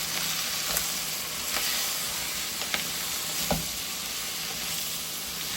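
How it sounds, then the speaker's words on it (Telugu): Tomatoes stirred into a frying curry of drumsticks, capsicum and meal maker give a steady broadband sizzle, broken by a few soft scraping clicks of the spoon, close and with no talking. "టొమాటోస్ వేసుకొని కలుపుకోవాలి."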